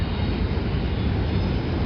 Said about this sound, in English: We've got another train coming down the Palmdale Cutoff, southbound